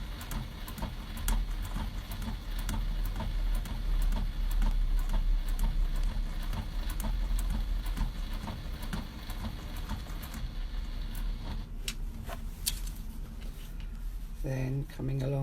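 A sewing machine back stitches fabric close by with steady, rapid mechanical ticking, then slows near the end.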